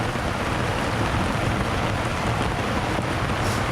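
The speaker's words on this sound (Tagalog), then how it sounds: "biglang dumating yung ulan napakalakas oh" A sudden, very heavy downpour roars as a dense, constant hiss of rain beating on surfaces, with gusts of wind mixed in and no voices.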